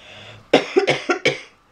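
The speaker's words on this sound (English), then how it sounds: "Excuse me, coughing." A quick burst of five coughs in close succession, near and fairly loud, with no talking.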